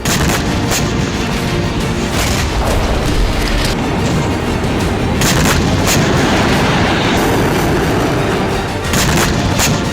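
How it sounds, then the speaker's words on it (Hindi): Bunker buster bombs from Israeli air strikes on Hamas tunnels and bunkers, heard as a dense, continuous roar of heavy booms and blasts, loud and close with no pause. "वॉर एक्सपर्ट्स के मुताबिक ये बंकर बस्टर बम के हमले की तस्वीरें हो सकती हैं।"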